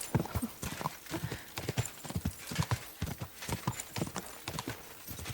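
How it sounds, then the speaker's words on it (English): Horse hooves clatter in quick, irregular clip-clop beats from an armored rider's horse in the medieval video game Kingdom Come Deliverance II, loud and close, with a faint whinny mixed in and no talk. "some guy armored up on horseback jumping through your cow pen"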